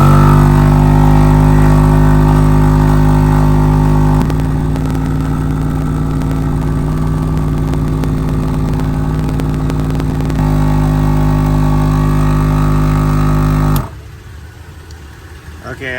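A Gobege 12V portable air compressor runs steadily with a loud, even motor drone and rattling buzz while inflating a 33-inch tire, powered from a running car, continuing for about fourteen seconds before cutting off abruptly into quiet.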